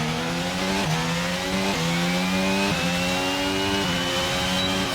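A Formula 1 car in a career-mode racing game in Bahrain screams at high revs, climbing through gears in a rhythmic pattern of rising pitch sweeps broken by quick shift drops, loud and continuous with no talk.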